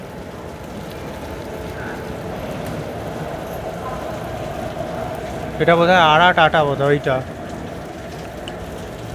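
Heavy rain falls steadily at a railway station near Asansol Junction, a dense continuous wash with a stationary train nearby; a loud burst of talk cuts in briefly near the middle while the downpour continues underneath.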